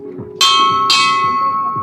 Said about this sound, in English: ringing a bell and announcing themselves to the city